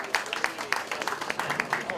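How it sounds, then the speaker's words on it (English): An audience applauds at an outdoor neighborhood community event in East Boston, a short burst of scattered hand claps, close and fairly loud. "We can clap for that."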